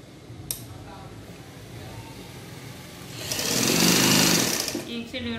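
A sewing machine runs a short, loud burst of stitching, re-sewing a seam twice so it holds; low murmurs and handling noises come before the whir rises for about a second and a half.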